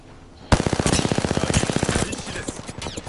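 Rapid automatic gunfire in a video game set in the Shin Kamen Rider world, a fast burst of loud close shots lasting over two seconds, then scattered single shots with game effects.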